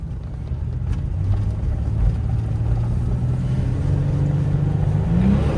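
A 1988 Chevrolet S-10 Tahoe Maxi-Cab 4x4 pickup's engine drones steadily from inside the cab, its pitch climbing as it accelerates and rising sharply at the end, with no talking.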